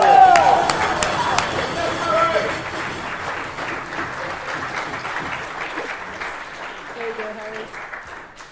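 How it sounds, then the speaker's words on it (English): A school sixth form prize giving audience bursts into applause for a prize winner, loud at first and gradually tapering off, with a few voices chattering through the clapping. "Harry gets the applause"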